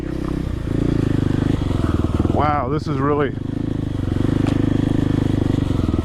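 A Kawasaki KLX 300R motorcycle idles and putters steadily on a woodland trail near a creek, its engine note near and continuous while someone talks over it and a brief higher whine rises in the middle.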